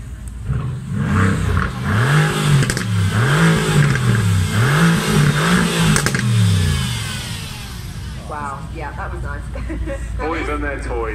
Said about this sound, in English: keep your eyes on this Mercedes-Benz AMG GTR. Hopefully we can hear it as well.